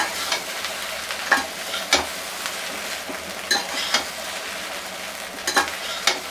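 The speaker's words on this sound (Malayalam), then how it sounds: "നമ്മൾ ഈ വറവ് പച്ചമുളകും കറിവേപ്പിലയും എല്ലാം എല്ലാത്തിൻ്റെ ടേസ്റ്റ് എല്ലാ കഷ്ണങ്ങളിലേക്ക് എത്തേണ്ടിയിട്ട് നന്നായിട്ടൊന്ന് ഇളക്കി കൊടുക്കുക." Steamed dhokla pieces are stirred in a pan with a coconut-oil tempering of green chillies and curry leaves, giving a soft sizzle under repeated scraping strokes and clinks, close by, with no talk.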